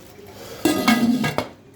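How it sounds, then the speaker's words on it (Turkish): A spice grinder lid is closed after cumin is added, giving a few sharp plastic-and-metal clacks and a short scraping rattle, close and alone. "Kimyonumuzu döktük. Kapağını kapatıyoruz."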